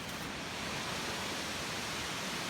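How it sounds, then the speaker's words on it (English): Lonnavale Falls (Timbs Falls), a 35-metre waterfall in Tasmania running full in winter, gives a steady, even broadband roar that stays constant from start to finish with no voices. "it's just about as good of a waterfall as any around here"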